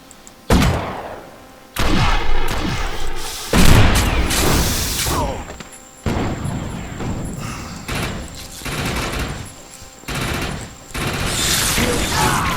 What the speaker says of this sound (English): Gotta love them infector grenades.